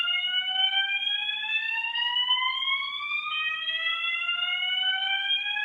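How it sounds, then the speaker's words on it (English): A System Sensor fire alarm sounds in whoop mode, a loud electronic tone sweeping steadily upward and then starting over, with no other sounds. "Here's a system sensor mass in whoop."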